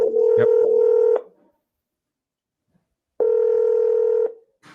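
A phone call is placed: a quick run of keypad dialing tones blends into a steady tone, then after a pause of silence a second long ringing tone sounds, clear and close with no voices.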